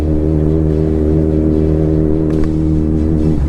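A Kawasaki Ninja motorcycle engine runs close by with a loud, steady, throbbing exhaust note that swells slightly near the end.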